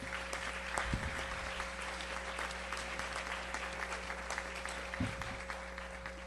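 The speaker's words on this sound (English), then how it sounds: "can you please stand so we can give you a round of applause?" Steady applause from a large group, sustained clapping throughout with a constant electrical hum beneath it.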